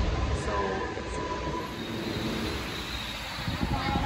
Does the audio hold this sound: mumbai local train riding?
yes